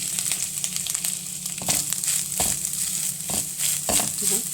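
Grated fresh coconut and poppy seeds sauté in a pan for a sweet modak filling, with soft crackling sizzle under repeated scraping and stirring strokes, close by and uneven in rhythm, with no talking.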